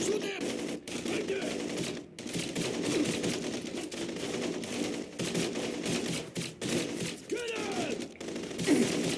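Gunfire from the PC video game Blue Estate, set in a tunnel: dense, rapid bursts of automatic shots rattle almost nonstop, with brief shouted voices mixed in.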